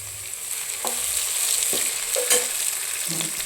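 Tomatoes go into hot oil with onions and green chillies in a home kitchen pan, giving a steady close sizzle with occasional scraping stirs and light clinks throughout.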